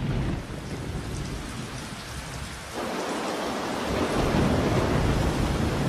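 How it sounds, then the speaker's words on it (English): Heavy monsoon rain pours steadily in the Western Ghats forest with a deep rolling rumble of thunder, loud and continuous with no voices, growing denser toward the end. "The monsoons of the Western Ghats are legendary, dropping almost 9 meters of rain annually in some places."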